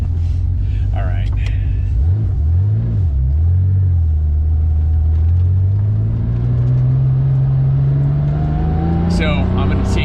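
A Porsche DP Motorsport DP935, a 1980s car built on the 935 style, drones loudly from inside the cabin as it drives, the engine note dipping and then climbing steadily, with faint voices now and then.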